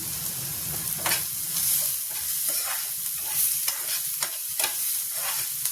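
Onion and garlic fry in a pan with a steady close sizzle, broken by repeated scraping strokes of stirring and no talking.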